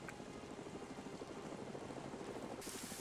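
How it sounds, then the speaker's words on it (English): Helicopter in the military shooter Arma 3, a steady rotor thrum with a low pulsing beat, heard at moderate distance and fairly faint, continuous throughout without speech. "we're also seeing a helicopter pulling over to where the BLUFOR guys in the boats are"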